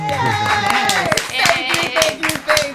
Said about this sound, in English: We got applause.